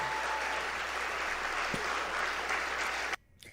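Applause from a political rally crowd of about 1,000 people, a broad, moderately distant wash of clapping that holds steady for several seconds before cutting off abruptly.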